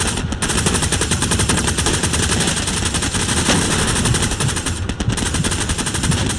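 Sustained machine gun fire in the World War II shooter Hell Let Loose during a defence of Utah, dense rapid bursts rattling continuously and loudly for the whole stretch with no pause.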